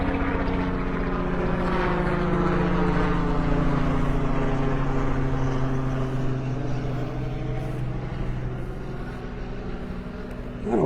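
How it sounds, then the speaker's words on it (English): Two helicopters passing together overhead above a Florida beach make a loud, continuous rotor and engine drone whose pitch slides downward as they move off, with no talk. "2 helicopters together."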